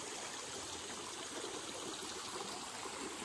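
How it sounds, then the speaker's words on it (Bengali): A clear mountain stream in the dry season flows with a steady, soft rushing hiss, constant and unbroken, with no voices. "দেখো কত সুন্দর বয়ে চলেছে, বয়ে চলেছে। এগুলো খুব পরিষ্কার জল,"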